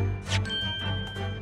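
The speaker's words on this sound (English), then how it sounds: "the very glass bell in question." A small glass bell from The Great Ace Attorney Chronicles jingles softly in a few light, bright tinkles over a low background hum.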